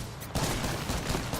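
Gunfire in the battle royale game Apex Legends, a dense, loud burst of rapid shots that starts after a brief quieter moment and carries on continuously to the end.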